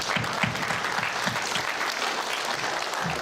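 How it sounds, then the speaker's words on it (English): Steady applause from a school assembly audience, many hands clapping together at a brisk even rate throughout, with no talking over it. "Give her a big clap."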